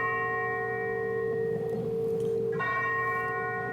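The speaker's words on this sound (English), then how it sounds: "I'm guessing that is the dinner bell." A bell rings as an answer signal on a finance show, sustained resonant tones with a bright harmonic ring that fades slightly, then a second strike renews the sound near the end.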